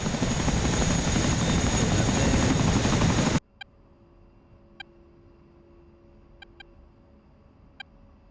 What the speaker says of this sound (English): Chinook is inbound.